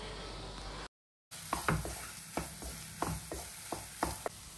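A spoon stirs grated coconut into prawn masala in a pan, making repeated scraping knocks about every half second over a faint sizzle, with a brief silent gap near the start.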